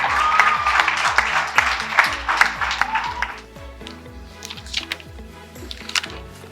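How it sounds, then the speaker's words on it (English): Parents and visitors applaud at a primary school graduation, a loud burst of clapping that fades after a few seconds over steady rhythmic background music. "you need to give a huge applause now"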